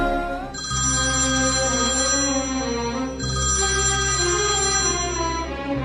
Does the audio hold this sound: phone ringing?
yes